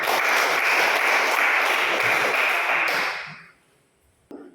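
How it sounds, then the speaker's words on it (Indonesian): A class of students applauds a student group after their presentation in a classroom, dense clapping holding steady for about three seconds then fading to silence, with one sharp tap at the end. "Tepuk tangan untuk kelompok 3"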